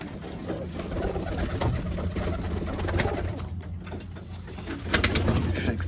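Birmingham Roller pigeons cooing steadily inside a loft, a low continuous murmur of overlapping coos with a few brighter wing or perch noises, close and moderately loud throughout.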